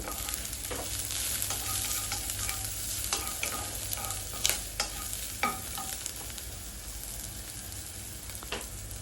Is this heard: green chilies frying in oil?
yes